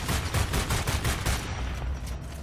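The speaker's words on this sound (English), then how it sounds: "I just shoot this guy dead." Rapid bursts of gunfire from the shooter video game Homefront: The Revolution, loud and close, fading slightly toward the end with no voices over it.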